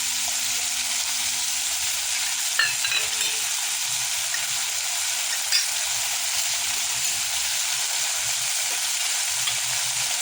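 Prawn chilli with vinegar, soy sauce, ketchup and green chilli sauce sizzles steadily in a pan while being stirred, a constant close hiss of frying with a couple of faint scrapes and no voices.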